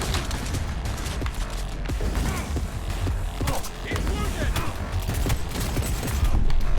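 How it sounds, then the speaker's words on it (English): Gunfire in a Cyberpunk 2077 firefight: dense, loud bursts of rapid shots and clattering impacts, nearly continuous, with a voice briefly under the noise. "Oh, there's another guy shooting me."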